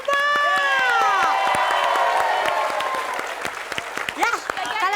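Studio audience at a lively Indonesian TV game show clapping and cheering, with whoops and shouting, loud and dense at first, thinning slightly toward the end; a host's voice and whistle-like tones sit over the crowd.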